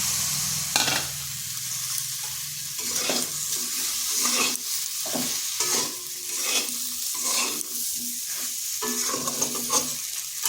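Chopped onions fry in a pan for bhindi masala, giving a continuous close sizzle broken by frequent scraping strokes of a spatula, with no talk.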